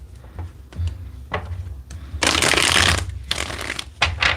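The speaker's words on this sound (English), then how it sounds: "Let's get two more good shuffles here." Tarot cards shuffled by hand in a quiet room, a few soft riffling bursts followed by a longer, louder run of rapid papery flutters, close and alone.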